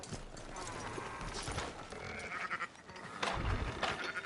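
Sheep bleat amid Red Dead Redemption 2 game ambience, with hoof-like clip-clop and rustling noise; a few bleats stand out over a steady busy background.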